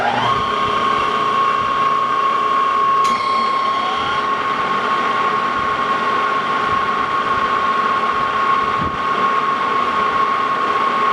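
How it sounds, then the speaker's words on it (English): A metal lathe takes a light skim cut on a bronze bushing held in a 3-jaw chuck. It gives a steady, continuous whine with a sustained tonal hum under broadband machine noise and one brief tap partway through. "I'm just going to take a skim cut off of that, clean that up"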